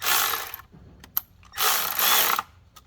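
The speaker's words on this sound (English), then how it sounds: "So I started off with the first two in the middle and I evenly tightened down" A ratchet tightens the oil filter housing bolts on a 2014 Jeep Grand Cherokee with the 3.6L V6, in two close, loud bursts of rapid clicking separated by a pause with a few single clicks.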